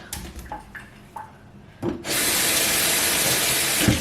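After a few light knocks and clicks, a kitchen sink tap fitted with a strainer opens and water gushes steadily and loudly for the rest of the moment.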